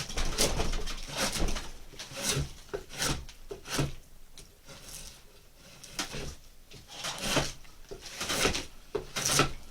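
A carving tool rasps and scrapes against wood while a canvasback duck decoy is roughed out, in irregular rubbing strokes of varying loudness, close by.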